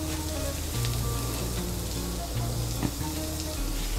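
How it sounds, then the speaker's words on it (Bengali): Potatoes fry with spices in a pan for chickpea ghugni, giving a steady close sizzle with faint crackles throughout and no voices. "মশলার সঙ্গে আলুটাকে ভেজে নিয়েছি"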